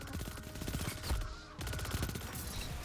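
Charged Manticore gun fire in Destiny 2, dense rapid bursts that crackle continuously across the clip with a brief lull near the middle, loud and close against game ambience.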